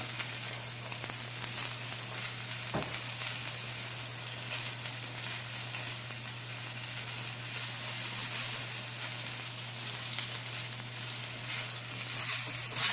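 A pork chop sears and rolls around in hot oil, giving a loud, steady sizzle that runs unbroken from start to finish, with a brief knock partway through and no talking.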